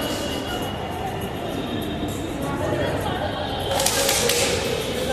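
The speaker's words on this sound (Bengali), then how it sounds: "হ্যাঁ, ট্রেন আসছে।" Metro train arriving at a station, a steady low rumble and hiss that swells near the end, heard under crowd chatter and voices.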